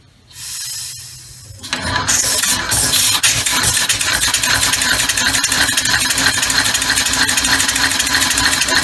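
A three-cylinder six-stroke oval air engine fed through a pressure regulator starts with a rush of air, then runs at a fast, steady chattering beat, loud and close, with no voices.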